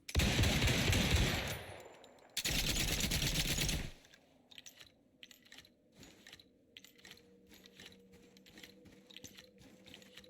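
Modded weapons in the Icarus video game firing automatically, two loud, dense bursts of rapid gunfire in the first few seconds, followed by quieter scattered mechanical clicks and rattles.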